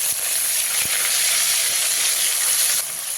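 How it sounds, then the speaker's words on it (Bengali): Dried red chili, ginger and green chili paste frying in hot oil, a loud steady hiss and sizzle filling the whole moment with no talk. "দিয়ে একবার তেলের সঙ্গে ভালো করে ভেজে নিচ্ছি তারই সাথে দিয়ে দেব পেস্ট করে রাখা আদা আর কাঁচা লঙ্কা"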